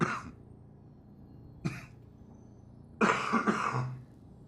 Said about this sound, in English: Sorry for me coughing this bad.